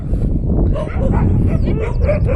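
Dogs brawl at close range in a village lane, a loud, dense tangle of growls, yips and barks with no pause across the whole short stretch.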